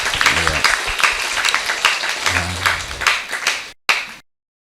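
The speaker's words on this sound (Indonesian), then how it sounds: "Tepuk tangan buat Mas Rifki dan Ibu DC." A talk-show audience claps for two guests, a dense burst of applause with a voice briefly over it, fading and cutting off abruptly near the end.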